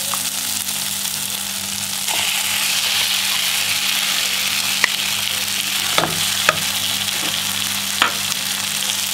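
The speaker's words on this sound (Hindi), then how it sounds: "थोड़ा सा अदरक डाल दिया हमने। अब मैं डाल देती हूँ आलू।" Potatoes go into a hot pan with ginger and fry, giving a steady, close sizzle with a few sharp clicks of stirring across the pan.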